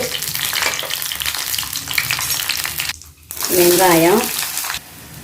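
Curry leaves, fenugreek, cumin and mustard seeds frying in a little oil, a close crackling sizzle for about three seconds, then a short pause and a brief, louder hissing burst.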